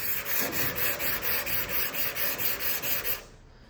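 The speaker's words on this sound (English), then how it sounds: "Sandpaper plugs up kind of fast." Sandpaper scrubs over filler primer on a car body in about a dozen quick, even back-and-forth strokes, close and moderately loud, then stops abruptly.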